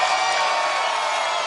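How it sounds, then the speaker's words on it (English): Crowd at a World's Strongest Man 2011 event cheering and applauding after a giant dumbbell press attempt, a dense, steady roar of voices and claps at close range with no break. "He takes the applause."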